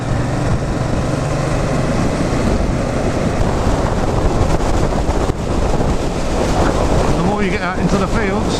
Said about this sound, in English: You get out into the fields, the windier it gets.